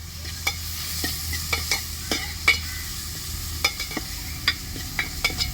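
Garlic, curry leaves and coriander stirred in hot oil for a fish curry and fry: a continuous crackling sizzle is punctuated by a dozen or so sharp spoon taps and scrapes, close and fairly loud, with no speech.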